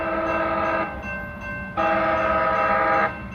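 A Los Angeles transit train passes close by, its loud horn sounding in two long, steady blasts separated by a short pause, over a low rumble of rolling wheels.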